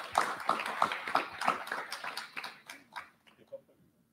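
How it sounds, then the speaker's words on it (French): Scattered audience applause at a small gathering, a handful of sharp, distinct claps that start fairly close and strong and then thin out and fade toward silence. "je crois qu'on peut t'applaudir quand même"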